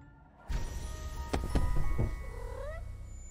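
A black cat in the horror game Beware The Evil Baby gives a short, rising meow near the end, after a sudden burst of ambience and a few dull knocks.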